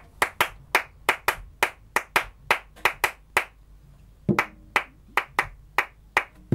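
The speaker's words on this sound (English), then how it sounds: "I just clap." Hand clapping, about twenty sharp claps in a steady pulse with a short pause before a quicker run resumes, close and dry with no talk.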